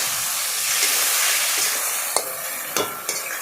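Poppy seed paste frying in a pan, giving a loud, constant hissing sizzle, with several sharp scraping strokes of a stirring utensil toward the end; no voices.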